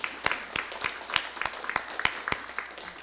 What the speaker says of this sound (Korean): 축하의 박수 한번 보내겠습니다